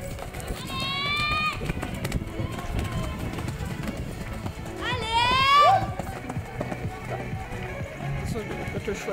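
A horse runs over ground during an 80 cm jumping round at an equestrian stable, with hooves drumming continuously. Voices call out and cheer over the hoofbeats.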